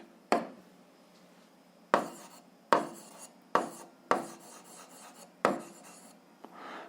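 A pen writes on paper during an algebra lesson, in a series of short scratchy strokes and taps, each starting with a sharp attack. The strokes are close and moderately loud, with quiet pauses between them and no talking.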